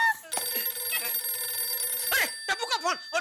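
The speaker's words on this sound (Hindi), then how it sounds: "अरे टप्पू का फोन" A telephone rings with a bright, sustained electronic trill, then breaks into a series of short repeated bursts, clear and close with a few faint voices around it.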